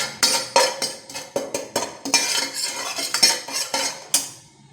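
Asafoetida powder being stirred and roasted in a hot kadai with the flame off, a metal spoon repeatedly scraping and tapping the pan in quick uneven strokes with a faint sizzle, close by and alone.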